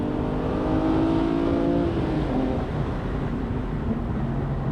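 A BMW M3 E46 on a race track drops down a gear, its engine droning loud and close with a falling pitch as revs shift, a continuous mechanical roar with no talk.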